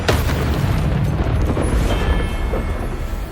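The Confringo fire curse bursts in the Hogwarts Legacy video game, a loud, close, sustained explosive boom with a rumbling, crackling tail that fills the whole moment.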